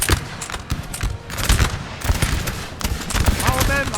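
Musket volleys in a Napoleon Total War battle, dense crackling bursts of gunfire overlapping in irregular clusters, close and loud, with a brief tonal call near the end.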